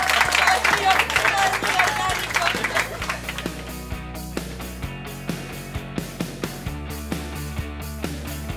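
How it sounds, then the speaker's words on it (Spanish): Audience applause at a business event, a dense wash of clapping that thins out over several seconds while music with a steady beat plays underneath. "Un aplauso para que haga la pena."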